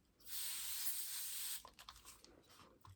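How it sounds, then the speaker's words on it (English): One long, close hiss of a spray bottle spraying oil-based scent lasts over a second, followed by faint rustling and handling sounds. "I'm just going to spray it down generously."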